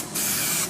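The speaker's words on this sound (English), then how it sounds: "this filler spray also fills small holes in this my bumper" An aerosol can of filler spray is sprayed onto a car bumper to fill small holes, a single loud, close hiss lasting about half a second.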